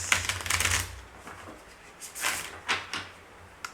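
A deck of cards is shuffled in a burst of quick riffling clicks, then a few shorter softer riffles follow, all close by and quiet with no talking.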